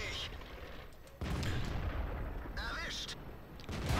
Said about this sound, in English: I just shot through your turret to do that